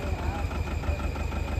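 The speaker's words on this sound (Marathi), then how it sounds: "बघा ट्रॅक्टर सुद्धा असा." A tractor engine runs steadily at a village picnic spot in Sonurli, a close, loud mid-pitched throbbing idle with a regular knocking pulse that continues throughout.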